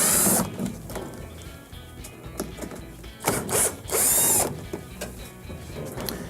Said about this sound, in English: there's two screws on the back of the control panel here that we're gonna have to remove